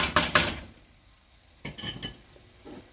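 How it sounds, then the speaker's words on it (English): A masher working pav bhaji vegetables in a pan: a cluster of quick metallic clinks and scrapes, a quiet pause, then another burst of mashing and a softer knock, close and without speech. "So now I'm going to use a masher, and I'm going to keep mashing it so that it nicely gets mixed together."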